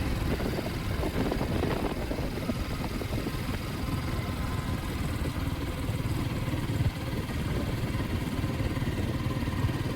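Motorcycle riding along a road near Gokarna, a steady engine drone mixed with rushing wind noise, continuous and fairly close, with no talk.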